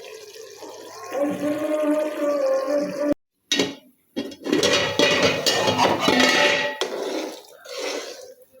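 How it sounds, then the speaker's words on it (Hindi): Water poured into a pot while cooking matar pulao, a rushing, splashing pour with brief metallic clinks, cut by a short gap, then resuming as louder, busier splashing before tapering off. "फिर इसमें डालेंगे पानी।"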